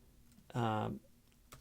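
Typing on a computer keyboard while entering a menu category name in an online restaurant menu editor, a brief close burst of rapid key clicks lasting about half a second.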